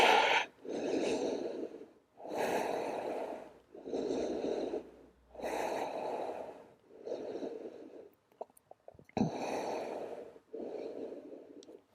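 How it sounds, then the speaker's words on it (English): Slow, steady breathing during a yoga child's pose, about six long audible breaths close to the mic, each a soft airy rush separated by brief pauses. "Come back to the steady breath again."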